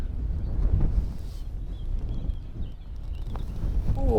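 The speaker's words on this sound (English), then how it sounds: "Some of these gusts are hard work." Gusty wind at a fishing lake, a continuous low buffeting roar across the microphone that rises and falls, with faint handling rustles and no talk.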